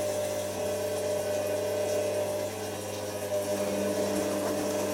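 Front-loading washing machine draining, its pump giving a steady, even mechanical hum with a faint watery undertone, continuous and moderately close throughout.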